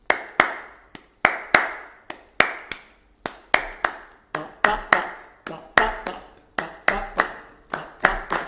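Hands clapping a Choro rhythm, a string of crisp, close, dry claps in a steady syncopated pattern with uneven spacing, alone and without talk.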